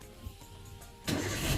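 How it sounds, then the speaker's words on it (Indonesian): A car engine is started during a driving lesson on a flat road: a faint hum and click, then the engine catches halfway through and runs at a steady, louder idle. "kita nyalakan dulu mobilnya ya"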